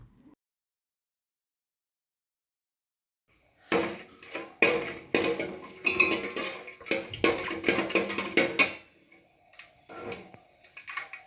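Whole spices, shahi jeera and a little ghee fry in oil while a utensil stirs them in the pan. After a few quiet seconds, close, irregular clinks and scraping clatter come in bursts, then fade to a few last taps.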